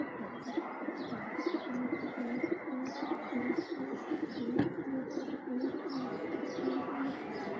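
Pigeons coo in a steady, repeating rhythm across the whole stretch, with the soft warbling calls close and clear over a constant bed of higher bird chirps and outdoor background noise.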